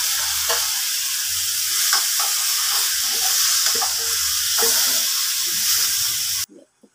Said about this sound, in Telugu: టమాటా ముక్కలు వేసుకున్నాను.